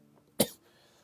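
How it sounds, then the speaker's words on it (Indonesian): A single sharp cough from a person with an irritated throat, close and fairly loud, standing out alone against a quiet room. "ini tenggorokan gue udah mulai batuk-batuk ya"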